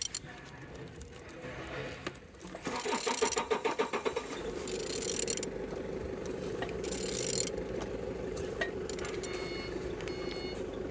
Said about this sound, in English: Turning your engine 10V74.